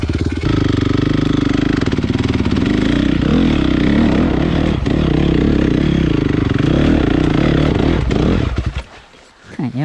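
A Honda CRF 450 motorcycle with an HGS exhaust roars loudly up close, holding a steady rough rev for several seconds before briefly dropping off near the end.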